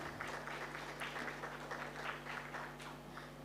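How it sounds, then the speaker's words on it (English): Applause from an audience at a product launch event, a steady, fairly faint wash of clapping that holds evenly for several seconds with a low hum beneath and no talking. "Let's give him a huge round of applause."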